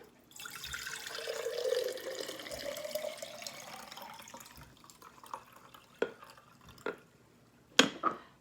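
Sumacade liquid pours steadily into a container for a few seconds, then trails off into a few distinct drips and small clinks.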